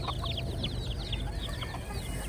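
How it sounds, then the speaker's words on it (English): Baby chicks cheep in quick, high repeated peeps among chickens on a farm, a steady chorus close by over low background rumble. "Look at all those baby chicks coming."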